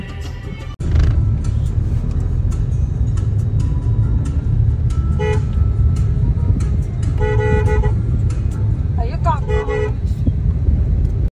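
Steady road traffic rumbles throughout while several car horns honk in short bursts, some close together, with voices faintly in the background, on a road in India.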